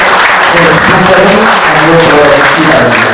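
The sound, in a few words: applause at an opening ceremony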